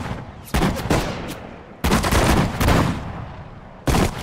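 Troops fire guns in Sudden Strike 4 during the Operation Overlord Allied campaign: dense, overlapping bursts of rifle and machine-gun fire come in several loud volleys separated by short lulls.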